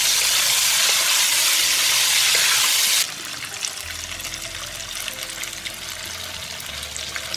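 Clean water pours into a wok of stir-fried fresh edamame with Laoganma chili sauce, oyster sauce, sugar and bird's eye chilies: a loud, rushing pour for about three seconds, then a quieter bubbling simmer.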